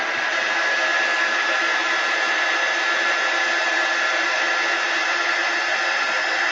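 A handheld dryer blows steadily and loudly, drying a chalk-paste craft project on a tiered tray made from dollar-store chopping mats; the whir holds constant and close throughout, with no voices.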